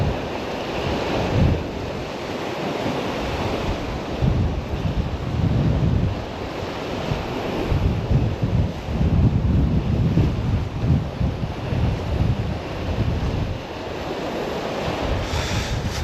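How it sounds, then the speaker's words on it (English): Strong wind blows by the sea on a Guernsey shoreline during a fishing outing. The wind roars steadily into the microphone over the constant wash of surf, loud and unbroken, with gusts swelling and easing. "Trouble is this wind's havoc"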